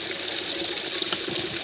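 Water gushes under strong pressure from a pipe feeding a tank, a steady broadband rush that stays loud and even throughout with no voices.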